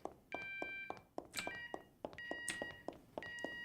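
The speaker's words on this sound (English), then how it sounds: "Why is this alarm like a tune that changes" A video game alarm plays as a beeping tune whose tone shifts, rising and falling in repeated electronic phrases over soft rhythmic thumps, close and moderately loud.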